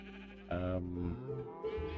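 A Minecraft sheep on a wool farm gives a loud, wavering bleat at close range, followed by a second softer baa, with no other sound competing.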